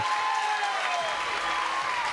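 Duke home crowd cheering and applauding at an NCAA college baseball championship game in Durham, a steady wash of clapping and voices with sustained whistles over it.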